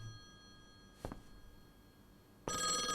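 A telephone rings in the horror game Call of the Elder Gods, a loud, bright electronic ring bursting in near the end after a short earlier thump, with no talking.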